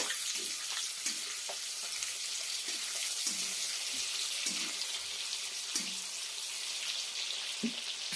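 Onions frying in oil for a Telangana-style fish curry give a continuous bright sizzle, close and even, with occasional low knocks and stirring bumps beneath it, no voices.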